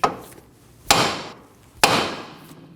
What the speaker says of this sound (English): Using a hammer, tap on the side of the knuckle where the tie rod goes in to break the tension